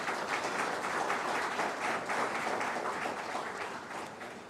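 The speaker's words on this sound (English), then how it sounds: "Could we have a round of applause for that welcome?" A large crowd at a university lecture applauds steadily, dense clapping filling the room at a constant loud level, easing slightly toward the end.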